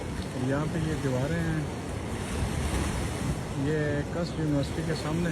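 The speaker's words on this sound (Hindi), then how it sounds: "पानी की स्पीड अभी तक बहुत तेज़ है।" Fast floodwater rushes steadily past partly submerged walls near a university, a continuous loud roar of water and wind with someone talking over it throughout.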